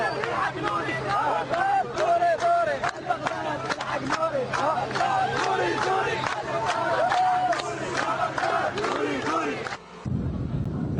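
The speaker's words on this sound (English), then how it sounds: "Crowds surged into the streets to applaud them and their work." Large street crowd in Baghdad cheering and shouting together in a dense, continuous roar of massed voices, with overlapping calls and chatter, cutting off abruptly near the end.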